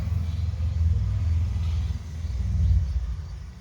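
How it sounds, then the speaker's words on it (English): A car driving by outdoors, a steady low rumble of road and engine noise swelling and fading over a few seconds with no talk. "pardon the car driving by."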